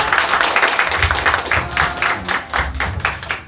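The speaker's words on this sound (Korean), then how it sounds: "오늘 특강해 주신 우리 조재규 장로님께 다시 한번 감사의 박수 드립니다." An indoor audience claps after a special lecture at a church, a brisk round of dense applause from many hands that keeps going steadily without talk.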